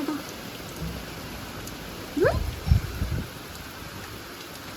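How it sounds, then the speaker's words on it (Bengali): A heavy downpour hisses steadily throughout, with a brief burst of low rumbling noise midway; no voices. "এখন মুসলধারে বৃষ্টি হচ্ছে"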